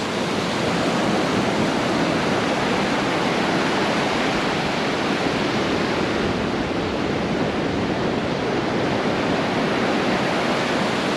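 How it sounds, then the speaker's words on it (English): Waves break on Weymouth Beach in Dorset, a loud, continuous roar of surf and rushing water filling the whole stretch with no pauses and no voices. "waves are getting rather close"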